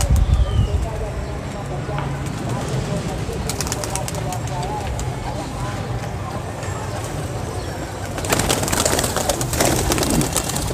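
Pigeons coo and call around a rooftop pigeon-keeping spot, close and steady beneath loud talk, with rustling and a busier burst of activity near the end.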